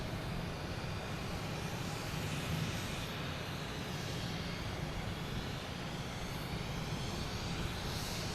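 JetBlue Airbus A320 jet airliner at Boston Logan Airport, a steady broadband engine roar held at a constant level for the whole stretch, heard alone without voices.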